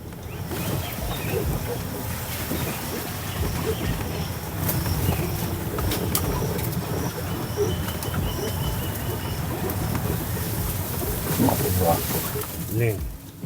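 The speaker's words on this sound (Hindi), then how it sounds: "बहुत खूबसूरत चहचहाने की आवाज़ है।" Birds chirp and coo outdoors in the countryside over a steady background rumble, with brighter chirps rising more clearly near the end.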